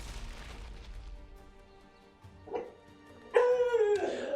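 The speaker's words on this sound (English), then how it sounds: "barking her head off" A pet dog barks in a home while a card game is played on screen. Soft muffled noise comes first, then one or two barks and a sharper, louder yelping bark near the end.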